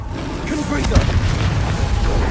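Confringo fire spell explosion in Hogwarts Legacy, a loud deep boom with crackling blast noise right up close, over a brief burst of speech.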